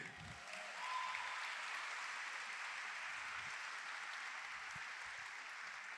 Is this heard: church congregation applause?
yes